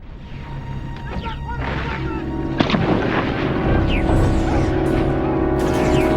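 Gunfire rattles through a dark, gritty firefight in the woods of an alien world, with repeated shots and a sharp crash partway through, the barrage building steadily louder under a layer of shouted voices and a steady musical drone.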